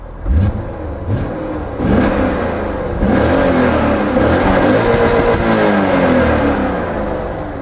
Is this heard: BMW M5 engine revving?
yes